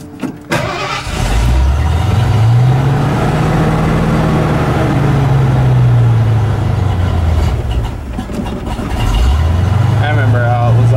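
Cummins-swapped Ford F150 truck engine idling roughly while warming up, a loud close diesel rumble that rises and falls as the throttle is held, with voices talking over it.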